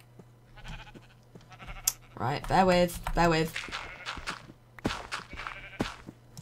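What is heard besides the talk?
sheep bleating in the video game Minecraft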